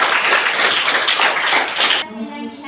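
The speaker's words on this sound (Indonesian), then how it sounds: "Tepuk tangan dulu." A classroom of students claps together for about two seconds, a close, even burst of applause that stops abruptly before a voice begins speaking.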